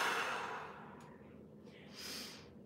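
Deep breathing during a mobility exercise: a long, close airy exhale that fades, followed by a softer second breath, with no speech.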